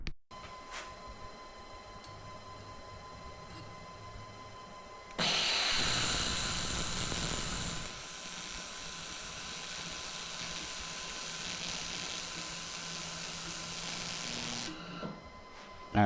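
An xTool MetalFab welder runs a single pass on stainless steel, starting with a sudden loud burst of broadband hiss that settles into a steady, slightly softer rushing hiss for about ten seconds before cutting off abruptly.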